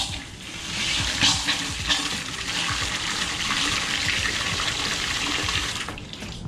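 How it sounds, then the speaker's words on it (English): Water pouring steadily into a bucket to mix a teak deck cleaning solution on a yacht's fly bridge, a loud continuous splashing rush close by that runs without a break and eases off near the end. "So I'm going to go ahead and add my water now."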